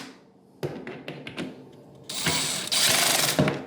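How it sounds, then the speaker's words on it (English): Cam locks on flat-pack furniture are tightened by hand, heard as a series of sharp clicks and knocks followed by a longer scraping, ratcheting rasp, all close and without voices. "tighten all the cam locks on this side"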